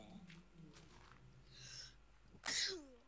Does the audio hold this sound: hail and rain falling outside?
no